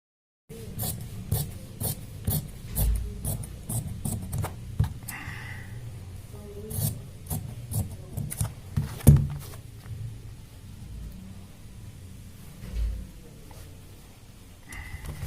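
Fabric for a men's fitted shirt is being cut up close, a run of quick, rhythmic rasping strokes repeated steadily with brief pauses and no talk.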